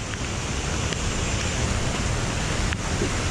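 A small waterfall with water seeping down on a flooded walk gives a steady broadband rush, close and constant with no voices.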